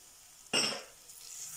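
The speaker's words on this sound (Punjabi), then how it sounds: "ਪਨੀਰ ਨੂੰ ਵੀ ਆਪਾਂ ਚੰਗੀ ਤਰ੍ਹਾਂ ਮਿਕਸ ਕਰ ਲੈਣਾ ਵਿੱਚ ਇਸ ਤਰ੍ਹਾਂ" Cubes of paneer stirred into a pan of spiced potatoes with a sudden scraping, sizzling burst from the spoon, then a softer frying hiss with faint clinks.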